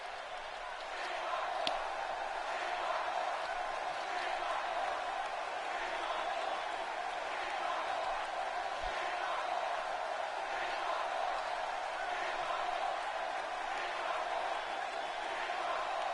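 A large wrestling arena crowd at a RAW Is War event roars in a steady, dense wash of cheering that holds loud and unbroken throughout, with no clear individual voices standing out.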